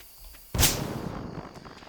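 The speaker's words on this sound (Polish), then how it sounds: "już wszystkie bombki mi tutaj w okolicy wybuchły" Single bomb explosion in Stardew Valley, a sudden loud boom that decays quickly into a rumbling tail, heard alone without speech.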